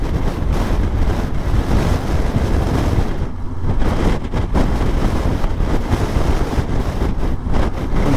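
Heavy wind buffeting a microphone during a motorcycle ride, a loud continuous roaring rush with gusty swells and brief dips, steady throughout with no voices.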